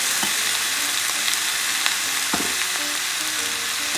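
Chicken frying in a pan with garlic and soy sauce for kalderetang manok, a steady close sizzle with occasional stirring scrapes and pops throughout.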